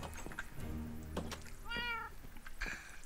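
A pet cat called Snowball meows in a few drawn-out, rising calls close by, separated by short clicks and small household noises, with no talking.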